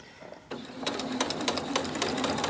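A sewing machine stitches fabric while making cord keepers from scraps. A brief quiet gap comes first, then a steady, close run of rapid needle strokes sets in and continues without talk.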